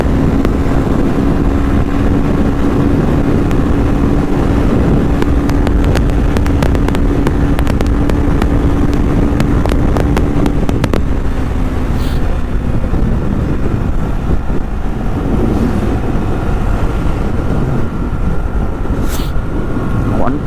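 A Yamaha FZ-25 BS-6 motorcycle runs flat out, a steady engine drone under heavy rushing wind roar that holds loud throughout.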